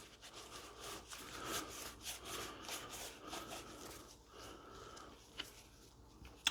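A cloth rubbed over Type 81 rifle parts, producing a steady close scrubbing and rasping swish in repeated back-and-forth strokes, with a small tap near the end.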